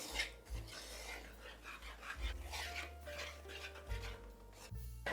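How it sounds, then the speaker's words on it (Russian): A whisk stirs thick cheese fritter batter of flour and cheese in a bowl, making a continuous close scraping and rasping, with soft low rumbling underneath and no speech. "Перемешиваю."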